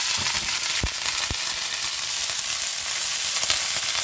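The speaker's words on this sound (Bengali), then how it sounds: "দেখো কফির ডাঁটাগুলো দেওয়ার সাথে সাথে একটু ছিটে এসছে, কারণ জল ছিল তাই" Vegetable stalks dropped into hot oil with fried fenugreek seeds sizzle loudly and continuously, with a few sharp spits and pops near the start as wet pieces hit the oil.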